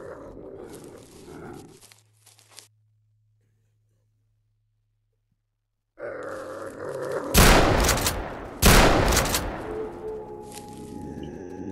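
Shotgun blasts in the video game Call of Chernobyl, two loud sharp shots about a second apart after a brief silent gap, with growling creature noises and game ambience around them.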